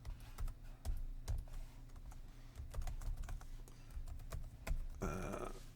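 Irregular keystrokes on a computer keyboard while an Arduino program is entered, soft close clicks in uneven bursts with short pauses and a faint hum beneath, no talking.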